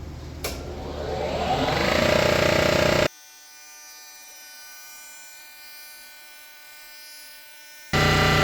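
Machine resurfacing a Honda B series cylinder head: a loud, rising grinding whine of the cutter over three seconds, then a steady lower mechanical hum, and the cutting sound returns abruptly at the end.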